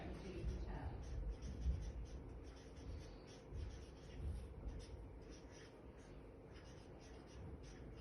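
Marker squeaking and rubbing across a whiteboard in a classroom, faint intermittent strokes at a soft, steady level with a low background hum.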